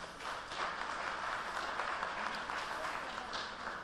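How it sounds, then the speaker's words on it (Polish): Audience applause at an engineering award ceremony, a dense, steady wash of clapping from a large crowd that holds evenly through the whole stretch. "Poproszę o brawa."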